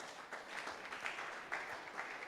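An audience at a real estate sales talk claps in a soft, sustained patter of applause, fairly faint and distant, with a few louder swells.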